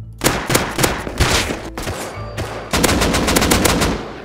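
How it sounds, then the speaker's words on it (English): Rapid bursts of gunfire in the survival game Rust, a dense stream of automatic shots in quick succession that pauses briefly and then resumes, loud and punchy rather than distant. "I then heard some shots in the distance"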